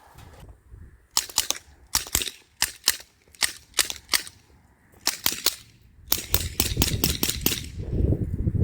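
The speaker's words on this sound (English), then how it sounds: "And that's how the Sig Sauer VIRTUS is supposed to shoot." A string of sharp, snappy shots from a Sig Sauer VIRTUS PCP air rifle, roughly a dozen in quick irregular succession while plinking, followed by gusting wind noise.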